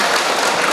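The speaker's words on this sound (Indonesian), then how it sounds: "berikan tepuk tangan dulu untuk narasumber kita" Applause for a KPU Kendal speaker at a democracy workshop, a dense, steady wash of many hands clapping at once, loud and continuous throughout the brief moment with no talking.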